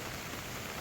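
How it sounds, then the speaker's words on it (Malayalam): Heavy rain pours steadily on the way to Devkund Waterfall near Bhira village, Maharashtra, a dense, even hiss that stays loud and unbroken with no voices. "നല്ല മഴ കേട്ടോ"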